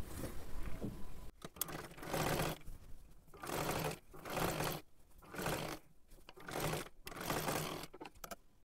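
A sewing machine double-stitches a kurti sleeve seam in repeated short bursts, each run of rapid close stitching separated by brief pauses.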